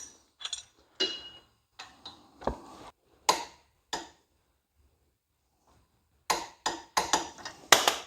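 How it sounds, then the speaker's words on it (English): A torque wrench tightening bolts on a John Deere 855 tractor, heard as a series of sharp close clicks and metallic ticks in separate bursts with silent gaps between them. "Now these get torqued to 70 foot-pounds."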